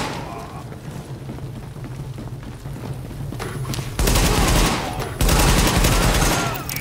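Heavy gunfire rings out during a rooftop firefight in Tom Clancy's The Division, two loud dense bursts of rapid shots breaking over a steady background rumble.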